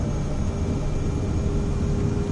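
A Cirrus Vision jet at full takeoff throttle in Microsoft Flight Simulator 2024, a steady loud engine roar with a constant high whine layered over deep rumble, unbroken throughout.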